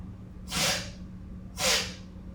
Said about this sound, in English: blow my nose into the sink